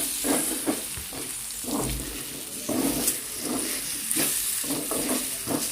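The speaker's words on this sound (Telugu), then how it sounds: "ఒక స్పూన్ అల్లం పేస్ట్ అండి ఒకసారి కలుపుకుందాము ఇదంతా కలిసిపోయేలా" A spoon stirs ginger paste into a curry frying in a pan, giving a steady sizzle with soft scraping strokes at an even rhythm, close by and with no talk.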